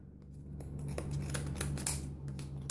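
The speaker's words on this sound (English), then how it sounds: "I'm just gonna cut that yarn" Scissors snipping through yarn while a pom pom is being made: several close, crisp cutting snips over a quiet room background, with no voices.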